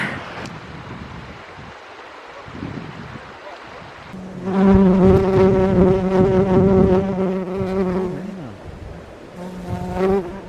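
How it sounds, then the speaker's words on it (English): Loud, close buzzing of bees swells and hovers for several seconds, droning steadily over faint outdoor wind. "The bees are well intrigued by it, aren't they?"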